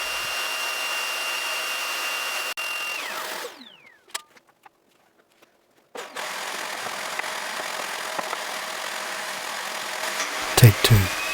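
A woodworking router on a router table cuts a dovetail with no vacuum hose attached, giving a steady high motor whine that spins down, a pause with a few clicks, then the router restarting and running loudly again.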